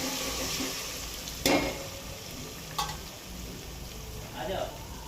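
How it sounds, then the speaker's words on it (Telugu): Mutton curry for a Telangana-style dish stirred in a hot pan with turmeric, a steady broad sizzle broken by a few sharp scraping strokes of the spoon, fairly close. "కొంచెం పసుపు వేసుకోవాలి దోస్తులు. కలుపుకోవాలి ఇలా."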